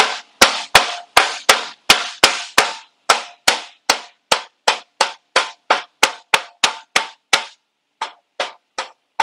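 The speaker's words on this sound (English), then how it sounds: "you may have to tap on them. I recommend a rubber mallet for that." A rubber mallet taps bolts into place during a bolt-on air-ride back-half install on a 1965–72 Ford F100 short-bed truck: about twenty sharp, evenly spaced knocks, close and loud, with a short pause near the end.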